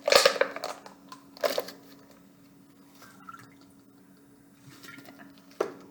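Chunks of instant ice slush sit in water, giving sparse, quiet crunchy crackles and drips, with a couple of sharper bursts near the start and one more near the end.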